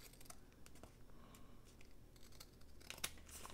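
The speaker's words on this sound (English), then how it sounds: "I'm going to trim this off because I don't need that wrapping around." Scissors trim junk mail paper for a journal embellishment, giving faint, close snips and paper rustles in an irregular series with no talk.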